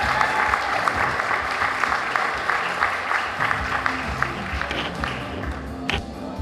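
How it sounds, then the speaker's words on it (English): Dense, sustained applause from a large audience at a school district Teacher of the Year celebration, a continuous wash of many overlapping claps, loud and steady throughout. "Let's give her a round of applause."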